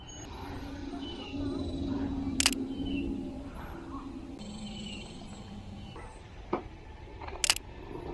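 A phone camera takes a picture while walking through an arboretum, with two sharp, brief clicks about five seconds apart over steady outdoor ambience and a faint murmur.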